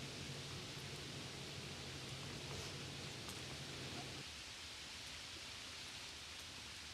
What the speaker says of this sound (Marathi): आता पावसाचा जोर काहीसा कमी झालेला आहे आणि रिमझिम पाऊस आता सुरू आहे